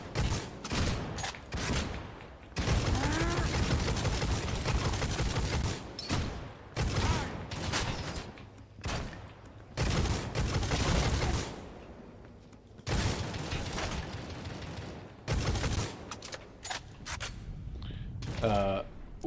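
Bolter gunfire in the Necromunda video game comes as repeated loud bursts of heavy automatic fire, separated by brief pauses, with the player talking over parts of it.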